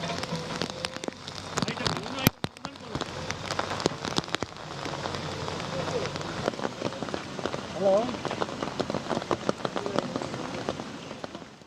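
Heavy monsoon rain pours steadily in the Nilgiris hills near Gudalur, a dense continuous hiss with scattered drops and sharper patters, loud and close throughout.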